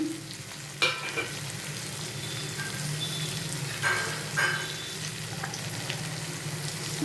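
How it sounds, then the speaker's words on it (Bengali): Sliced ridge gourd and potatoes fry in a pan with a steady, soft sizzle, broken by a few sharp scrapes and clinks of stirring. "5-7 মিনিট পর এই রকম ভাজা হয়ে যাবে"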